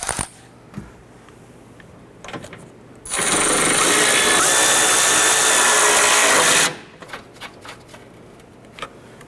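Power tool snugging down the three strut nuts on a 2009-2015 Honda Pilot front strut, a loud steady whir lasting about four seconds, set between quiet clicks and handling noises.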